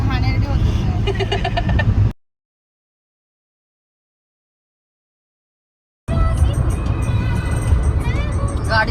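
A car cruising on the Samruddhi Mahamarg highway produces a steady low road and engine rumble with voices talking inside, cut by a four-second silent gap before the drone resumes.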